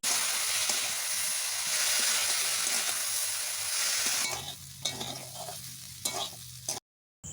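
Spices stir-fried with okra in a little water in a pan, giving a loud continuous sizzle and hiss that drops away partway through, leaving softer scraping stirs before a short silence.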